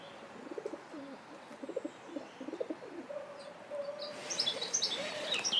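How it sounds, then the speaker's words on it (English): A dove coos several times in a steady rhythm, perched on a gate outdoors, fairly close and clear, while other small birds chirp and twitter faintly in the background, growing brighter toward the end. "that was a dove cooing, sat on the gate looking at me with some suspicion"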